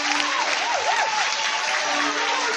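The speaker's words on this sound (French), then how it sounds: "Est-ce que tu peux acclamer très fort pour le roi des rois?" A church congregation breaks into loud, sustained applause and cheering that fills the room for nearly three seconds, dense and steady, with a faint voice calling out over the clapping.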